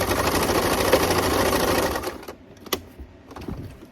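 Sewing machine running a zigzag stitch on a satin bonnet, a steady fast mechanical whir for about two seconds, then stopping into a few scattered clicks and handling noises.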